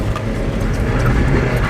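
Mazda Miata engine bogging in second gear while drifting in the rain, a loud, rough, low, labored drone close by with no talk.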